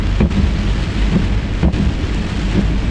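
Heavy rain pours during a cyclone near a beach while thunder rumbles low and loud, a dense, constant roar with no voices.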